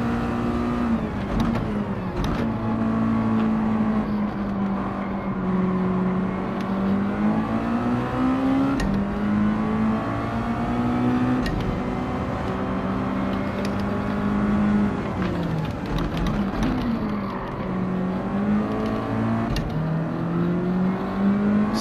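Race cars on the final lap in Gran Turismo 7, with a steady engine drone that rises and falls in pitch through shifts and corners. It runs continuous and close for over twenty seconds, with faint clicks and other cars mixed underneath.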